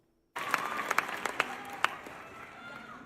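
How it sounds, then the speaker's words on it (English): A live show crowd applauds and claps after an introduction for producer Rockstar, sudden onset into dense clapping with a few sharp peaks, then settling into steady applause. "I want you to hear the introduction and then the response from the crowd for our man Rockstar"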